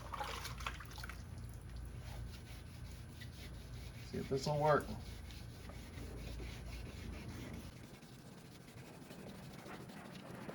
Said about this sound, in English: That 2000 grit sandpaper